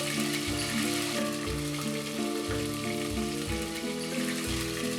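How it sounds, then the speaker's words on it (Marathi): Masala with red chilli powder frying and sizzling in oil in a pan for egg masala, a steady loud crackle with periodic scraping stir strokes and no talking. "तेल सुटेपर्यंत हा मसाला भाजत रहा।"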